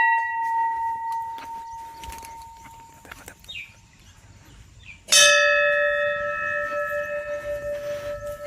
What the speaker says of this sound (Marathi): या मंदिरात घंटी पण वाजवली तरी त्याचा एको इतका असतो